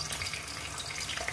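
Excess marinade from turmeric-marinated chicken wings poured away, a steady close trickle of liquid running down like water from a tap, alone with no talk.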